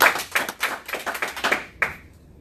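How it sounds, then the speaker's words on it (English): An audience claps at a real-estate team meeting in West Palm Beach, sharp hand claps in quick uneven bursts that thin out and end with a single last clap. "Let's give them a round of applause because they're watching."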